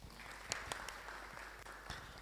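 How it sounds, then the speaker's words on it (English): An audience gives a round of applause at an innovation event, a steady wash of clapping with a few sharper hand claps standing out, moderately distant and without talk. "let's give him a round of applause"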